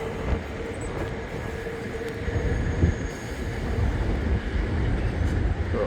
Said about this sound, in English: Alright, so we see a F train leave.